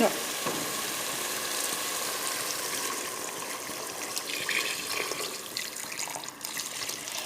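Hot water pours steadily into a cooking pot while a red sauce for mtewem is being prepared, a continuous splashing rush with a faint sizzle beneath.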